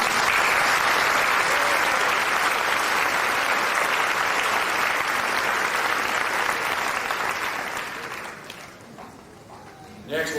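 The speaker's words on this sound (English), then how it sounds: "Let's have a round of applause." A large audience applauds at a high school graduation ceremony, broad continuous clapping filling the hall for about eight seconds, then fading out into a quieter room before a brief sound at the very end.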